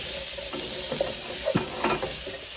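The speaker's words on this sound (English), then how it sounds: "saute it for about a minute" Chopped onion sautés in a hot pan for a rajma (red kidney bean) dish, giving a steady sizzle broken by repeated scraping stirs, close and with no talk.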